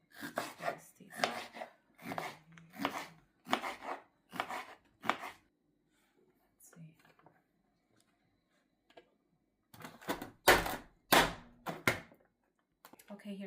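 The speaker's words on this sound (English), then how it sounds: "Okay, so we're just gonna slice these up." A knife slices vegetables for pico de gallo on a cutting board with a quick series of crisp, close chops, a quiet pause, then another rapid burst of cuts.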